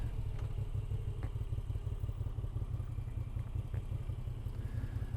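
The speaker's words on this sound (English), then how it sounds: "the way how that engine pops" A Moto Guzzi V7 Sport motorcycle engine rumbles steadily at close range, with a few sharp pops and clatters breaking through the low, continuous throb.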